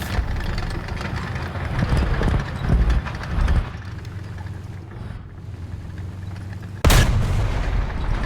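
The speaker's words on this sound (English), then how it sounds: "Taking artillery fire." Incoming artillery fire in War Thunder hitting near a Sherman III/IV tank, heavy booming impacts over a constant engine rumble, with a sudden loud blast near the end.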